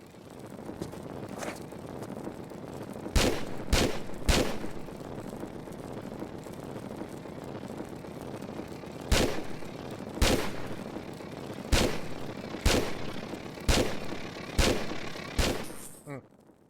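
Gunfire shooting at a wasp in a Tomb Raider custom level video game: single sharp shots spaced irregularly over a windy, droning game ambience, some in quick pairs, loud and close.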